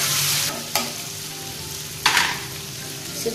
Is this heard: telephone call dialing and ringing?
no